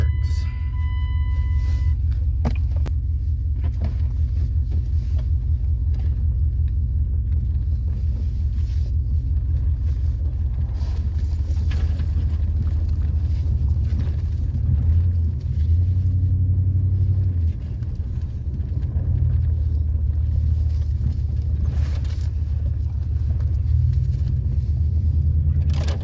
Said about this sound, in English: we're going out on a test drive now.